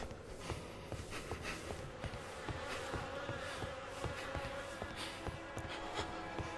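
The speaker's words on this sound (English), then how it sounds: "The air is heavy with the stink of rot, buzzing of those damned insects." Droning swarm of flies buzzing through the air of a rotting island environment in the horror game The Fidelio Incident, steady and continuous with faint footstep-like taps scattered throughout.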